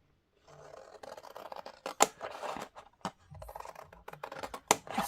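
Scissors snip through a paper journal cover for a Christmas craft project, a run of close, crisp cuts and rustles with a few sharper clips, no voices.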